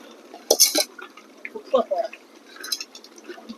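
Meat for biryani is stirred in a pot, with metal spoon clanks and wet scraping knocks in irregular bursts, close and fairly loud.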